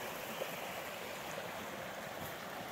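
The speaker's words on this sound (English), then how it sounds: "Look at the beautiful river that we're getting to walk along here for a bit." A river stream flows beside a hiking trail in southern Vermont, giving a steady, continuous rushing wash of water with no voices over it.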